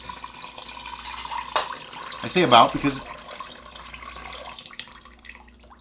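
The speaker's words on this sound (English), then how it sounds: "I'm trying to put water in here. Got about a gallon of water here." About a gallon of water runs from a tap into a pot while mead is being made at home, a brief splashing burst in the middle with a person talking over it.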